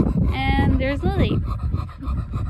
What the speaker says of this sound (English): Lily's out of breath too, but Booby goes over the top.